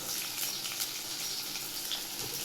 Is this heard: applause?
no